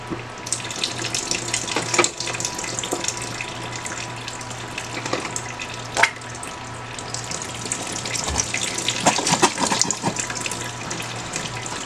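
Water pours and splashes steadily close by over a mounted plant, with gurgling and a few louder sloshes and a stronger gush toward the end.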